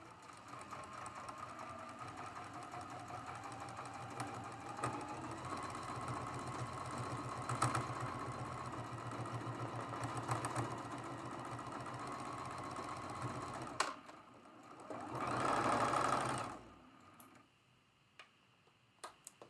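A sewing machine stitching the final seam of a traditional quilt block runs in a fast, steady mechanical ticking rhythm for several seconds, pauses, gives a short final burst, then stops, close and quiet.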